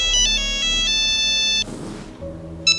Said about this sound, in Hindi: इसके फोन में यश का फोन क्यों आ रहा है?